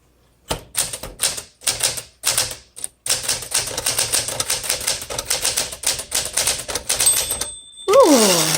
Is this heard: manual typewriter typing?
yes